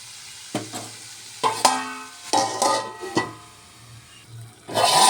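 Tomatoes frying in a covered pan, a steady soft sizzle broken by several sharp clanks and scrapes of a lid and spoon, close by, with a louder rush at the end.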